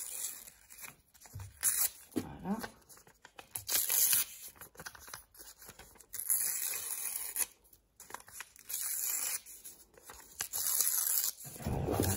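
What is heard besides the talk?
tearing the edges of paper by hand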